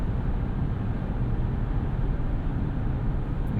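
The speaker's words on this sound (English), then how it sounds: "This Hurricane engine definitely impresses me." Steady low rumble from the Hurricane engine of a 2023 Jeep Wagoneer Series II Carbide while driving, an even broadband cabin drone holding constant at moderate level with no gaps.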